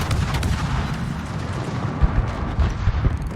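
A battleship exploding and sinking in World of Warships: a low, rumbling roar of continuous blasts with a few sharper thuds near the end, dense and loud throughout.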